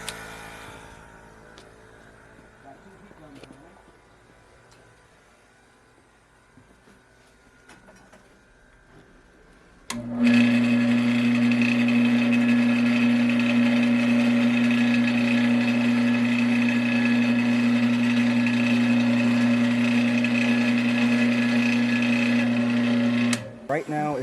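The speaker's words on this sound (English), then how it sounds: "Go ahead and turn on the lathe." A lathe in a tiny house workshop starts abruptly partway through, then runs with a loud, steady motor hum and drone until it cuts off near the end, after a quieter stretch of low background noise.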